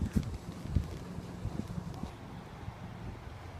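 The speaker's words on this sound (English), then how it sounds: "It's a very dark, windy day" Wind buffets and rumbles across the microphone, with a few low gusty thumps early on, then a steady low roar that settles.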